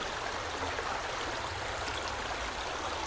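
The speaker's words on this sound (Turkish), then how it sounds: "Bak oradan da bir dere geliyor mesela böyle nereden geliyorsa" A stream flowing past a spot where it once flooded its banks, a steady broadband rush of moving water that stays even throughout, fairly near, with no talk.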